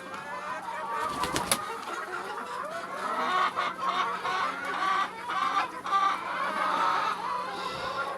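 Hens cluck and murmur in a busy chorus close by while being fed on a snowy day, with a few sharp clatters early on and a steady low hum underneath.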